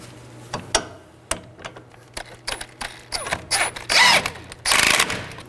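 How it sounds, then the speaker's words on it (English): Ratchet with an 18mm socket snugging sway bar link bolts on a 2018-2024 Chevrolet Equinox: a run of sharp clicks and brief mechanical rattles, close and fairly loud, with bursts of denser ratcheting toward the end. "I'm going to snug these down with an 18mm."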